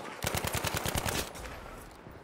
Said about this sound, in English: Oh, somebody's sniping us.